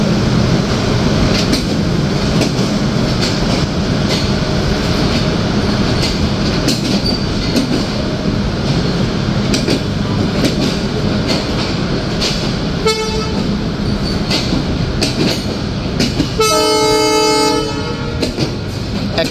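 The Chitra Express passenger train runs at speed with a steady roar of wheels and a rattle of coaches, then a loud horn blast sounds near the end.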